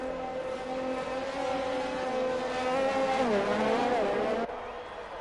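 Race cars in a sim racing game at the Barcelona circuit, engines whining loudly and overlapping with pitch swoops as cars pass, continuous, under faint commentary.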